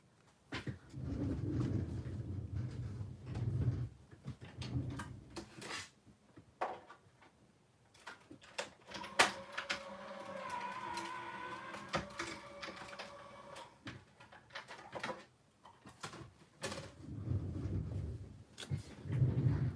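A die cutting machine runs for a Valentine's craft project, giving a low mechanical hum with whirring tones in the middle, surrounded by clicks, clunks and handling noises, close and moderately quiet.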